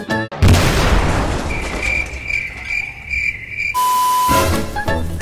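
A truck blown up in the Roblox video game: a sudden loud blast opens into a long roaring, crackling burst, with steady high ringing tones over it, then the blast cuts off and lighter game effects follow.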